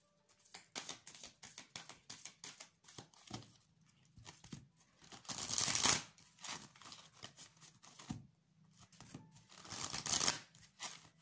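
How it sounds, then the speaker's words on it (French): Tarot cards being spread and shuffled across a table, a dense run of soft papery slides, flicks and riffles with a few louder sweeping bursts, close and quiet, with no voice. "Je vais pousser ça vers le haut pour pouvoir étaler mes cartes"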